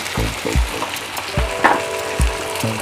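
Ginger, garlic and softened tomato sizzle in a pan, steady frying crackle broken by several dull knocks of a spoon stirring against the pan, close and moderately loud with no talking.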